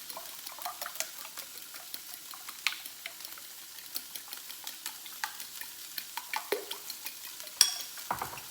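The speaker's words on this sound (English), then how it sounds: "And I'm going to scramble these up. Scramble up some eggs." Eggs being whisked in a small bowl, with a steady run of quick clinking strokes and light liquid sloshing close by, some louder taps standing out near the end.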